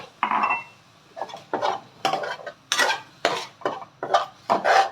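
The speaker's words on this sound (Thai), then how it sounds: "เราผัดให้เครื่องแกงเราหอมนะคะ" Thai curry paste is stir-fried in a pan without oil, with a little water added, for pork khua kling; a spatula scrapes and knocks against the pan in regular, distinct strokes separated by brief pauses.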